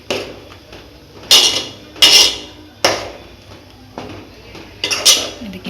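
A spoon stirs masala and water in a cooking pot on a home stove, giving about five sharp metallic clanks and scrapes at irregular intervals, close and fairly loud.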